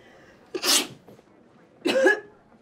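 Two loud, close sneezes about a second and a half apart, each a sharp burst with a breathy tail, and no talking around them.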